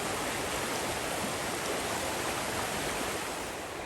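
Creek water rushing at a trail crossing on the Ozark Highlands Trail: a steady, close, broadband wash of flowing water, constant and fairly loud throughout, with no voices.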